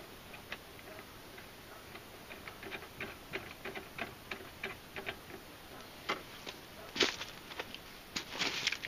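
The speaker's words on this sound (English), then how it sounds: "I'm going to just basically use a 3/8 ratchet with a 1/2-inch socket to go ahead and snug up the lock nut on the bottom of the anchor" A 3/8 ratchet with a 1/2-inch socket snugs a nylon lock nut onto a threaded rod under a Polaris Ranger bed, giving quick, faint repeated ticking clicks in an uneven rhythm, a few louder clicks near the end.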